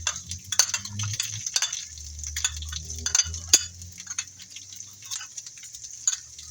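Onions, yellow peppers and garlic frying in oil in a pan, a steady crackle of light sizzling ticks and pops running throughout, fairly close, with no talking.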